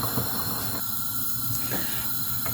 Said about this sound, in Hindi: अभी हम इसका पानी निकाल के अलग कर लेंगे।